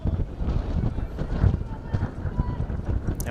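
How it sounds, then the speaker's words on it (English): Gusty wind buffeting the microphone at an outdoor women's hockey match, a constant rumbling roar with surging bursts, close and fairly loud throughout. "It's suddenly gone very windy indeed"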